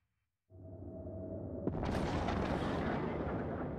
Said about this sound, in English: That is a large explosion.